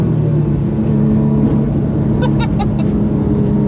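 A Porsche 997 GT3 RS at speed on the Nürburgring, its engine a loud, continuous drone with steady harmonics and only slight changes in pitch, close and unbroken throughout.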